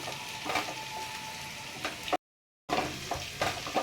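Chocolate gujiya filling cooks and gets stirred in a pan, giving a soft, steady sizzle with occasional scraping ticks of the spoon, briefly cut to silence midway before the frying resumes.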